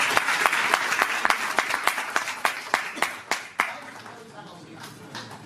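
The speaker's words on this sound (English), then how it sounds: "a big round of applause" Applause at a Mumbai festival announcement event, starting as a dense burst then thinning into a few distinct, sharp claps that fade out, fairly faint overall.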